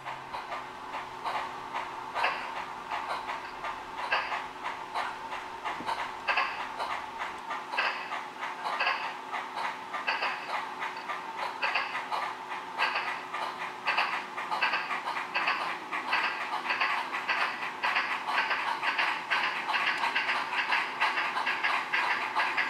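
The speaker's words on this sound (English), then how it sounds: "three crews begin the Herculean effort to start a train on the steep hill" Steam locomotives start a train on the steep grade of Sherman Hill, a steady series of rhythmic exhaust chuffs continuing at a moderate distance, fairly even in loudness, with a low rumble that drops away partway through.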